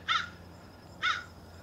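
Crows by a lakeside boat launch give two harsh, separate caws about a second apart, clear against quiet outdoor background noise.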